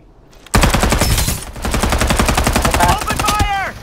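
Rapid automatic gunfire from the shooter game Farlight 84 bursts in loud and close, a dense rattling stream of shots that keeps going for about three seconds, with a few chirping game sounds near the end.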